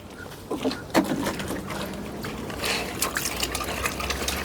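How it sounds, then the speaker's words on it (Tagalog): Water pours and gurgles into a container, with a few splashy bursts early on and then a steadier filling sound, fairly quiet and close. "mag-refill tayo ng tubig mga kajuit"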